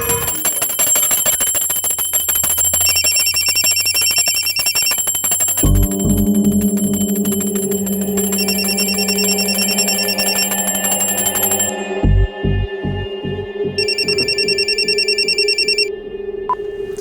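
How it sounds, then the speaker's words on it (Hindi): A telephone bell rings repeatedly in a tense indoor crime-drama scene, loud bursts of bright electric ringing alternating with pauses, under a steady music bed and low rhythmic tones, without speech. "अभी फोन की घंटी बजाने की क्या जरूरत थी?"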